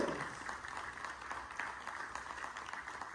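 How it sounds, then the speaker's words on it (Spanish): Applause from a church congregation at a cathedral service, a steady, dense wash of many hands clapping that holds evenly throughout, with no voices standing out. "Dale un aplauso al Señor"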